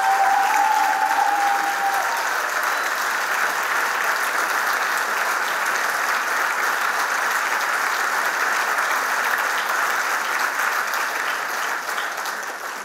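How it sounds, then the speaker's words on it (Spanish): Sustained audience applause from a crowd at a live stage event, steady and loud throughout before tapering slightly at the end. "así que vamos a aplaudirle fuerte"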